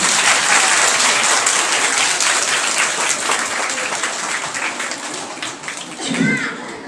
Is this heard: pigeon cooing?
no